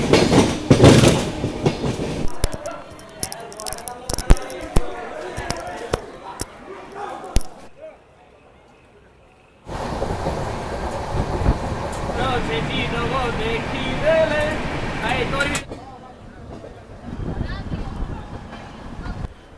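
Inside coach D9 of the 12037 Bhubaneswar Jan Shatabdi Express, a steady rumble and rattle of the running train fills the carriage, with clicks of wheels over rail joints. People talk over the noise, and the sound drops out briefly midway.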